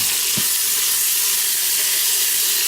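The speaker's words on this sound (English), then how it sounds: "I'm going to try to go ahead and sear it on the ends just for a minute." Pot roast beef sears in a hot pan with a steady, loud, close sizzling hiss that runs unbroken throughout, with one small clunk near the start and no talking.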